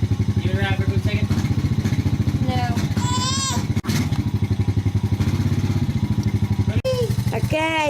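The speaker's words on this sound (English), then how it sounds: "Just go ride her around just for a second on the four-wheeler." A four-wheeler ATV idles in the snow with a steady, pulsing engine chug throughout, under frequent voices talking.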